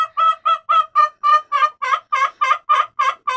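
An anxious hen clucks in a steady run of about a dozen evenly spaced calls, close and loud, with no talking.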